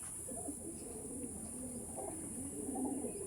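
Andhra Kalshira pigeons cooing softly in a loft, a steady low murmur of overlapping coos repeating throughout without any talking.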